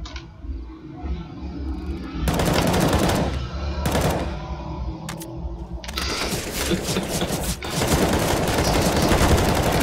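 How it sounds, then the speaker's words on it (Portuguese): Counter-Strike: Global Offensive gunfire in a competitive match: a quiet stretch, then sharp single shots and sustained automatic bursts, loud and close, with continuous rattling fire toward the end. "o cara atirando em mim ali"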